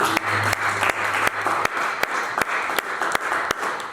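A church congregation applauds together, a steady wash of many hands clapping with sharper individual claps standing out, sustained and fairly close throughout.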